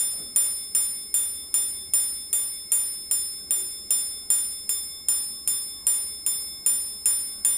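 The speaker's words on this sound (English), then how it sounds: "if the watch is not fully wound, the alarm won't strike, as it needs the power to fully charge the gongs" A small metallic chime struck repeatedly in an even rhythm, about two bright ringing strikes per second, each decaying quickly, close and clear: the alarm of a Patek Philippe 5520RG wristwatch striking its gongs.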